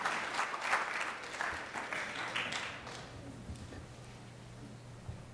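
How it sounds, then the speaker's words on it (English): A crowd applauds, clapping loudly at first and then gradually fading out over a few seconds. "So let's have a round of applause for Ariane."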